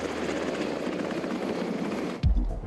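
Rotor and engine noise from a Black Hawk military helicopter in flight fills the clip with steady, loud chopping and rushing sound, then briefly breaks into a heavier low thump near the end.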